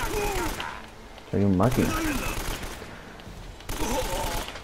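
Bursts of gunfire in the video game Uncharted: Drake's Fortune, rapid shots in separate bursts mixed with game sounds, while someone talks over it.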